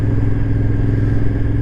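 A cafe racer motorcycle cruises along the road with a steady, close engine drone and a low rumble that holds even, without revving or gaps.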